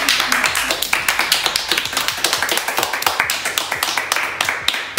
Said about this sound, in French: pouvez vous auto-applaudir